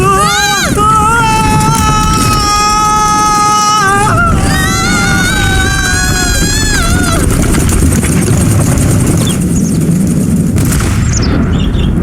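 Aircraft flying over a mountain in the video game Where Winds Meet: a steady, loud engine roar and rush that fills the whole stretch, with sustained tonal sounds over it early on.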